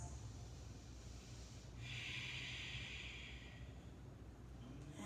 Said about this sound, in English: taking those breaths